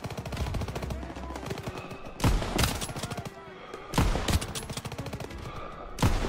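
Call of Duty: WW2 battle audio carries rapid, rattling bursts of gunfire, with several sharp, louder volleys breaking through a busy wash of combat noise at roughly even intervals.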